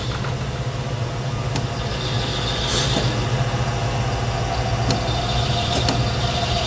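A metal lathe motor runs with a steady, loud, low hum and faint mechanical whine, with a few brief clicks and a soft hiss midway.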